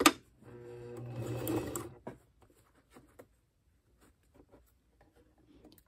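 A sewing machine stitches slowly through thick fabric of long pants for about two seconds, then stops, followed by a few faint scattered taps and clicks in a quiet room.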